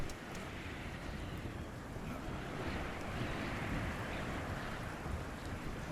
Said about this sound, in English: It's like the only thing I can hear in my headphones, the wind.